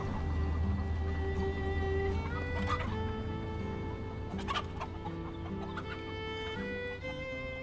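Several chickens and a rooster cluck and murmur close by, with a few sharper squawks breaking through a steady low hum.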